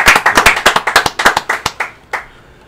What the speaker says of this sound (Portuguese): Aplausos para David